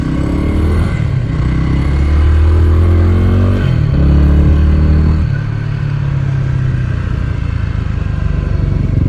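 Stoplogic dirt bike engine running while ridden, with a steady mid-pitched motor drone that rises and falls through a couple of throttle changes, close and loud, with faint clatter and no talk.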